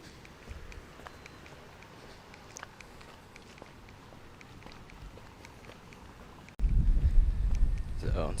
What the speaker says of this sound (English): There's a breeze going on right now.